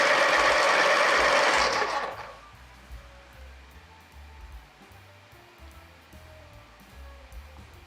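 A green colored pencil is sharpened, a loud whirring grind lasting about two seconds before dropping to faint background rustling.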